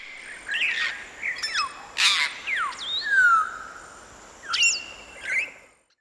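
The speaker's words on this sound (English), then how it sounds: "African grey parrot." An African grey parrot calls alone with a string of loud, close whistles, squawks and sweeping rising and falling tones, separated by brief pauses.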